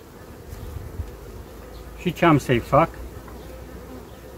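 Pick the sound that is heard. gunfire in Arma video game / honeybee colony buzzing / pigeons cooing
honeybee colony buzzing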